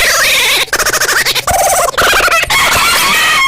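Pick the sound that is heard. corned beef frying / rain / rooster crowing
rooster crowing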